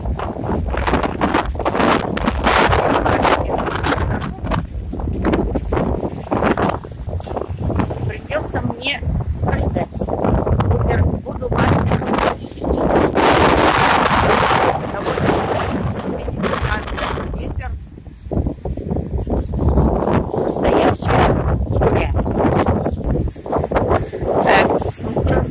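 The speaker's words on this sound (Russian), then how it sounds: "Сильный ветер, я не знаю, меня слышно или нет." Strong wind buffets an outdoor microphone beside a flooding river in Israel, a loud, continuous rumble with gusty swells throughout, while someone talks underneath.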